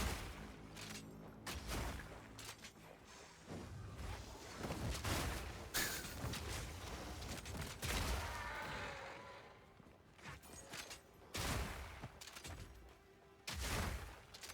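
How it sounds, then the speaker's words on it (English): Explosive shot hits in Path of Exile 2 set off rapid bursts of booming blasts and crashes, dense and repeated across the whole stretch at fairly low level. "it's definitely hitting and doing the explosion"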